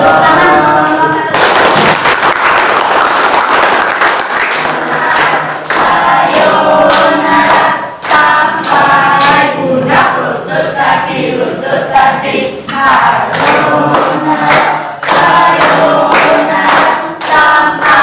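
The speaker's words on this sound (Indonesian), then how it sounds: "Tepuk tangan kelompok 1." Students in a peer-teaching classroom clap for group 1, a loud burst of clapping that breaks into sharp, rhythmic patterned claps and thumps, close to the microphone, with voices chanting along.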